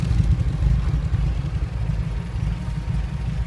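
A UAZ engine idles with its exhaust muffler insert removed, a steady, loud low rumble with an even throbbing pulse close by, no voices.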